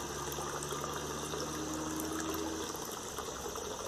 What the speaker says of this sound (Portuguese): Ó, ó o barulhinho da água aí, ó.